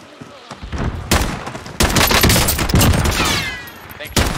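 Gunfire from a Super Smash Bros. Ultimate match rattles in loud, dense bursts of rapid shots that overlap with other busy game effects, nearly continuous after the first second.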